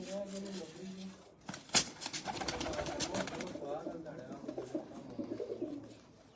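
Lakha pigeon coos run low and steady beneath ongoing men's conversation, with a sharp clatter near the start and busy background noise throughout.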